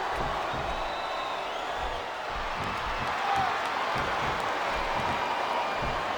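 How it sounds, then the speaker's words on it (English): A video game wrestling arena crowd in WWE SmackDown vs. Raw 2007 fills the space with a continuous, moderately loud roar of crowd noise and faint rhythmic swells, with no talk over it. "listen to that chant"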